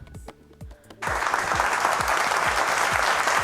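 Studio audience on a Kurdish TV quiz show breaks into loud, sustained applause after about a second of quieter sound, the dense clapping continuing steadily to the end.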